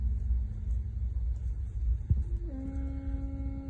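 A Squier P bass played through a JOYO Fat Rat overdrive pedal gives a gritty, rumbling low tone, with a held note that shifts pitch partway through, loud and alone with no talking.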